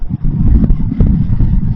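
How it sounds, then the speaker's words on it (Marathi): Dense traffic noise on a busy highway running through a city, a loud continuous low rumble of engines and passing vehicles heard from a motorcycle ride. "खूप म्हणजे खूपच ट्रॅफिक आहे"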